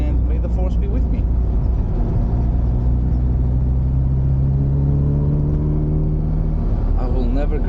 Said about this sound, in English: I will never ever grow tired of driving a classic Mini on the road.